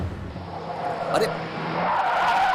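A car is driven recklessly. Its tires squeal in a sharp skid partway through, with engine noise underneath and a voice speaking over it.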